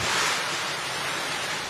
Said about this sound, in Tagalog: Hinagupit ng malalakas na hangin at ulan ng Bontoc Mountain Province sa kasagsagan ng bagyong Pepito.